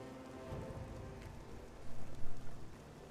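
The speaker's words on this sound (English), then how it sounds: "I have to walk while it's raining." Steady rain falls in The Witcher 2, a soft, even hiss of drops on surfaces that runs through the whole stretch, faint and constant with no voices.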